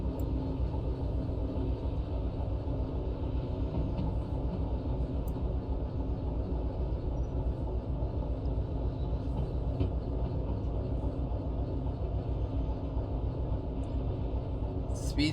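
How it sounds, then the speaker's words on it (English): A train in the Derail Valley simulation picks up speed rolling downhill, a constant low rumble with rolling wheel noise that holds steady throughout, with someone talking over it. "The train's now just speeding up because we're going downhill."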